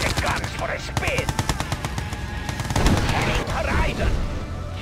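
Rapid machine-gun bursts crackle from units in Red Alert 2: Yuri's Revenge, a dense run of evenly spaced shots over the first seconds, then scattered explosions and game voice lines mixed with battle noise.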